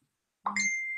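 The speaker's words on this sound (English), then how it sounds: "sorry about the phone going off, turned it on to silent." A phone notification chime goes off as one short, bright ding with a clear ringing tone that lingers for a moment and stands alone in the quiet.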